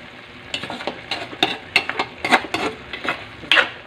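String beans and green chili are stirred in a pan with a little broth and tomato, giving a series of close, irregular scraping and clinking strokes over a faint sizzle, with no voices.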